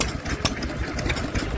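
A row of Lister D stationary engines runs at a vintage rally, with a steady mid-low mechanical chugging and an irregular putter mixed with outdoor wind buffeting.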